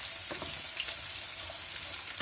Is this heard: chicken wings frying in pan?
yes